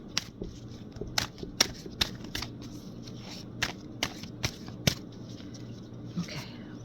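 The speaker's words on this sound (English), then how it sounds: "I'm just going to do a really quick shuffle" Tarot cards being shuffled by hand, a series of crisp riffling snaps at irregular intervals over a low steady hum.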